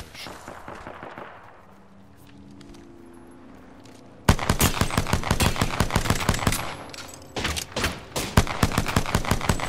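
Rapid automatic gunfire crackles in the video game Apex Legends. Faint shots come first, then dense, loud bursts break out about halfway through and keep going as a steady fusillade, with some voice chatter underneath.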